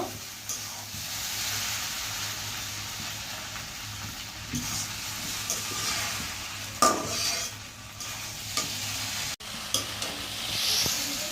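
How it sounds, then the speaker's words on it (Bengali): Noodles fry in a hot pan with a steady, close sizzle while a utensil stirs and scrapes them, adding soft clinks and knocks against the pan. "আর 2 মিনিটের মতো নেড়ে চেড়ে আমি নামিয়ে নেব।"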